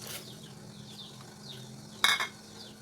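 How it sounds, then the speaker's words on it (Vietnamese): Tofu drops into a pot of boiling vegetarian fish-maw-style soup with a short clattering, splashing clink, set against a quiet steady bubbling background. "Rồi bây giờ cái nồi súp của mình nó đã sôi trở lại rồi đó các bạn. Thì mình sẽ cho tàu hũ vô ha."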